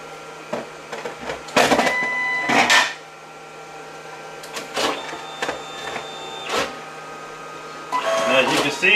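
An inkjet printer prints a 4x6 photo, sending out bursts of mechanical whirring and feeding clatter in uneven spurts with quieter gaps between them, while a person speaks over it.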